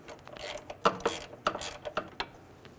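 A bolt is tightened on the front ABS wheel speed sensor bracket of a 2003-2008 Honda Pilot, giving several sharp metallic ratchet clicks and clinks in uneven bursts, close and fairly loud, with no talking.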